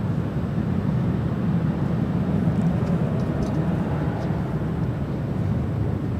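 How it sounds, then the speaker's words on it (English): Delta Airlines Boeing 737-900ER jet departing LAX, a continuous broad low rumble of engine noise, steady and fairly loud throughout with no talk. "That is Delta Airlines Flight 2134 heading to Las Vegas at a 737-900ER."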